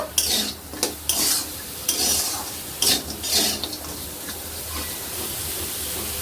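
Momo filling is stirred in a hot pan: a few close scraping strokes give way to a steady, soft sizzle and steam hiss for the rest.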